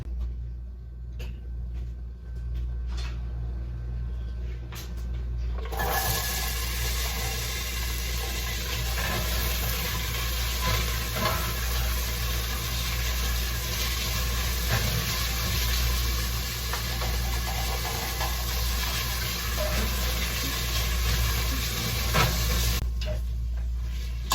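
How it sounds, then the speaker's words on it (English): Shrimp stew base for Brazilian moqueca de camarão being stirred in an oiled pan, a steady sizzling hiss that starts abruptly and runs continuously for many seconds before cutting off. "I'm supposed to stir this for 6 whole minutes."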